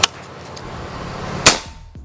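Two sharp shots from a PCP air rifle, a softer crack at the very start and a louder, crisp one about a second and a half later, with quiet between.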